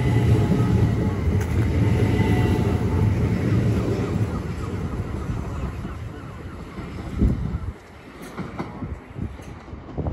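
A Southeastern Class 375 electric multiple unit rolls past at Ashford International, a steady loud rumble of wheels and rail noise that fades toward the end, with a brief thump near the close.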